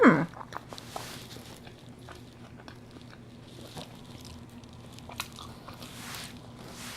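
Someone close by bites into food spread with jalapeno cream cheese and keeps chewing, giving soft, moist crunching and squishing sounds over a quiet background.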